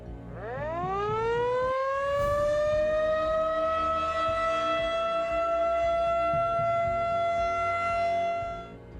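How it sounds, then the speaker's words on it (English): A tornado siren winds up from a low growl into a long, steady wail that holds loud for several seconds, then begins to fade. "you may be outside and hear the tornado siren"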